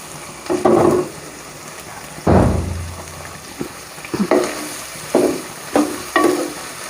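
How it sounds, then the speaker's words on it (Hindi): Finely chopped carrots and other vegetables fry for vegetable macaroni, a soft continuous sizzle punctuated by several loud spatula scrapes and tosses at irregular intervals, close up with no talking. "एक से 2 मिनट आप इसको फ्राई कीजिएगा"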